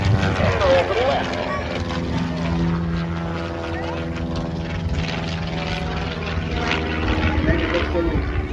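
A propeller aerobatic plane, flown backwards at the Quinte International Air Show, drones steadily through a roll with a loud, sustained engine tone, while an announcer talks over it throughout.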